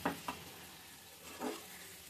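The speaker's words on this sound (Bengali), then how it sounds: "তো দেখতেই পাচ্ছেন পেঁয়াজটা ভাজা হচ্ছে। এটাকে সামান্য হাই ফ্লেমে আমাদেরকে এখন 10 মিনিট ভাজতে হবে" Onion frying on a high flame in a pan gives a steady soft sizzle, broken by a few brief stirring scrapes near the start and again toward the end.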